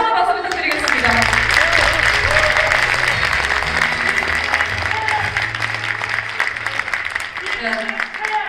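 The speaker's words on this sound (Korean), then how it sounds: "다시 한번 박수 부탁드리겠습니다" Crowd at a presidential candidate's support rally clapping loudly and continuously, with an announcer talking over the applause throughout.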